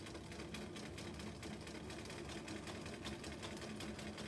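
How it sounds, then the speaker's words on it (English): A sewing machine fitted with a walking foot stitches a quarter-inch seam through quilt layers, producing a steady rapid mechanical whirr and chatter, quiet and continuous with no talk. "And then I need to sew to the corner."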